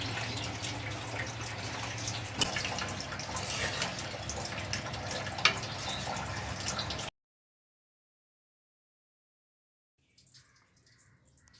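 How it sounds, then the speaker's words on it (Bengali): Water poured into a pan of cooking shankar (stingray) fish curry, a steady close splashing pour with a few sharp clinks, then an abrupt cut to silence and a faint low rumble at the end. "এবার একটু জল দেব"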